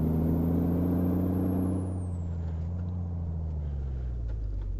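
A Peterbilt 351 truck engine in Euro Truck Simulator 2 gives a loud, steady low rumble, heard from outside the truck. The tone dips slightly as the revs fall, and no one speaks.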